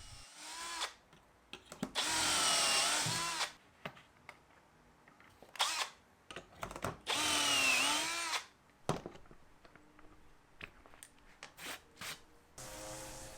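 A power drill bores dowel holes through a Dowel Max doweling jig into wood for a large apothecary cabinet, two long loud whining bursts with short clicks and handling knocks between, no talk.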